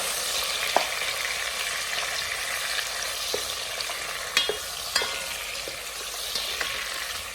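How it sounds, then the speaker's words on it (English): Egusi stew with onions frying in a pot, stirred gently: a steady broadband sizzle runs throughout, punctuated by a few sharp spoon clicks and scrapes, with no one talking. "Gently mix."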